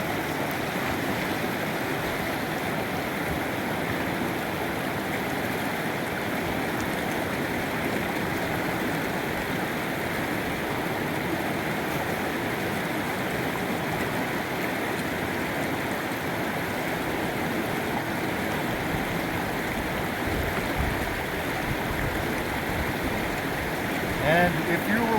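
A creek runs over rocks and boulders at a gold prospecting spot, a constant close rushing babble that stays steady throughout with no talk over it.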